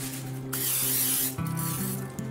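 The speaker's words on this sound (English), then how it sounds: "we're going to spritz it with a little more of that butter" Butter spray spritzed onto breakfast home-fry potatoes, a loud continuous hiss lasting about a second, followed by a few shorter puffs, with an appliance hum underneath and no talking.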